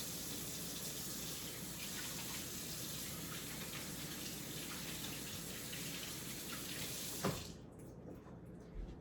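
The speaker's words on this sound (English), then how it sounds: "Wash my hands off real quick." Water from a kitchen sink tap runs steadily while hands are washed after handling eggs, a continuous close splashing hiss that stops abruptly near the end.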